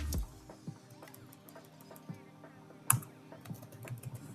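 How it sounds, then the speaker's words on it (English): Rapid clicking of a computer keyboard, irregular keystrokes with a louder tap near the end, close and fairly quiet. "I'm gonna do this by typing in this display window here"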